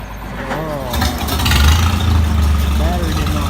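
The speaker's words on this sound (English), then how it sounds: "These gassers are a lot easier to start than a diesel sometimes." A gasoline engine cold starting on a cold day: cranking gives way to a low, steady running rumble that grows louder and holds, with someone talking over it.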